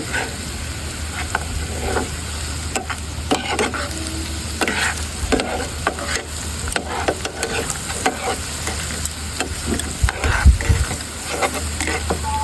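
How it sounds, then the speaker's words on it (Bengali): Mixed spice masala sautéed in a pan, continuous sizzle punctuated by repeated sharp spatula scrapes in an uneven rhythm, loud and close. "এবার মশলাগুলো আমি ভালো মতন কষিয়ে নিচ্ছি মিক্স মশলা এবার আমি সুন্দর মতন নেড়ে নিব"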